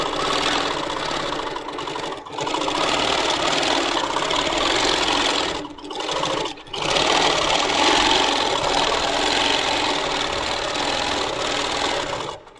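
A sewing machine running steadily for free motion quilting through quilt top and backing with a Moxie machine, a loud continuous mechanical buzz broken by two brief pauses near the middle, with no talking.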